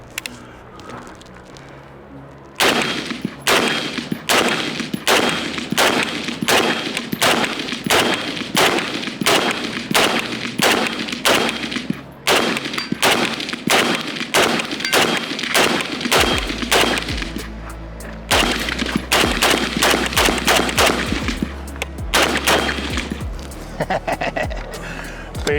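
FN SCAR 16 rifle chambered in 5.56 firing on a range: loud, sharp shots in rapid, steady bursts, a long run of evenly spaced reports with short pauses between strings and a heavy low rumble toward the end.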